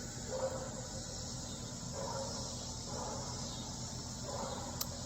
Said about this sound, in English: The sound you hear are cicadas.